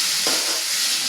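Spices for a vaghar tempering, added with onion, tomato, ginger, chilli and garlic paste, sizzle and fry in hot oil in a Gujarati kitchen making pakoda, a steady close crackling hiss throughout with no talk.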